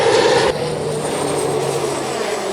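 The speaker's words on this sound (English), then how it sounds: "There's like airplanes that fly above. Like one's coming right now," An airplane passes overhead close to an airport, a loud broad engine roar that drops slightly after a moment and then holds as a steady drone.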